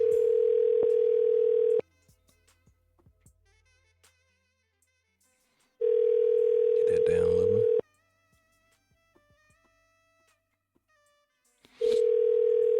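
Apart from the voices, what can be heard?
telephone ringback tone while calling someone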